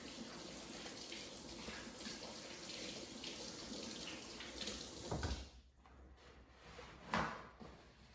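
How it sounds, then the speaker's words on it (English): Tap water runs steadily into a sink while hands wash under the stream, close and continuous, ending in a few brief knocks and splashes as the flow stops; set in a home kitchen during pound cake baking. "let me wash my hands again"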